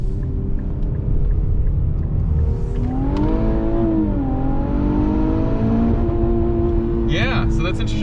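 A 2021 Infiniti Q50 400 Red Sport engine rumbles in a low steady drone after a downshift into first gear, rising into a brief revving sweep midway before settling, heard from inside the car with people talking over it.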